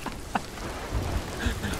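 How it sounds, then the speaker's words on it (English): Rain and thunder from a storm in the Sea of Thieves pirate game, during which the player's ship is struck by lightning and catches fire; a steady wash of rain carries low rumbling, with a faint voice briefly audible. "Apparently we were struck by lightning."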